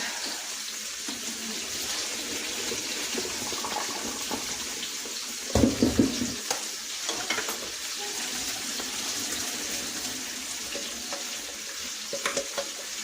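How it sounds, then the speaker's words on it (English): Cooked egg noodles for pork lo mein drain in a kitchen sink, giving a steady watery wash with a brief louder splash and clatter midway and small knocks near the end, no talking. "And then I'm just draining the egg noodles."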